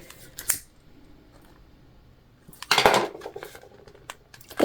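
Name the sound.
scissors cutting thread on vinyl sewing project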